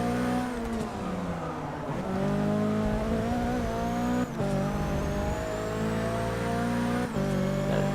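British Touring Car racing at Brands Hatch Indy in Forza 6, with a close, loud car engine revving continuously through gear shifts and brief tire noise, other cars audible around it, and no talk.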